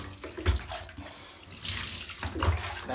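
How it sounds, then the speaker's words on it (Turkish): Water pours and splashes over a dog during a bath, a steady rushing flow that swells louder in the second half, close by and with no voices. "Şimdi su dökelim mi?"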